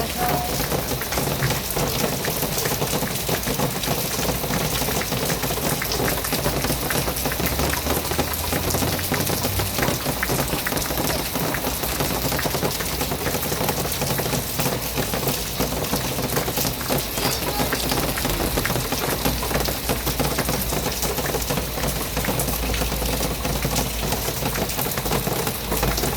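Steady monsoon rain pours down in Bharuch, India, beside fields and a housing society, a dense unbroken hiss with pattering drops throughout, loud and continuous with no one speaking.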